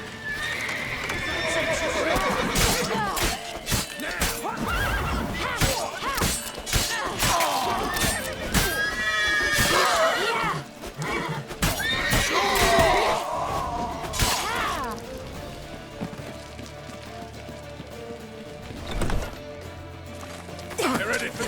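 In The Witcher 3, horses neigh and whinny loudly while hooves clip-clop in a fast gallop, mixed with crashes, breaking sounds and shouted voices in a chaotic, busy game scene.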